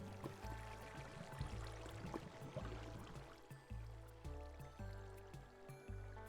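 Water rushes steadily down a waterfall in the Minecraft Gravitas² SMP modpack, a continuous close flowing wash heard alone with tonal game sounds layered over it.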